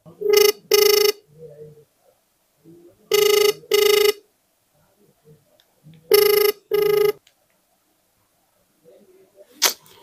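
A phone call rings out unanswered: paired ringback tones repeat three times at steady intervals with quiet gaps between, faint murmuring in the pauses.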